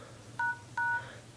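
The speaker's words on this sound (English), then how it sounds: "we're going to go to Phone, and we're going to dial ##" Two short keypad dialing tones from an HTC EVO 3D phone, each a clean beep lasting about a fifth of a second, evenly spaced and fairly quiet over a soft background hum.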